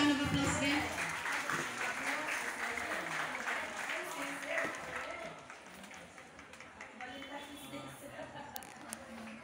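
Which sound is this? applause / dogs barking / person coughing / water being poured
applause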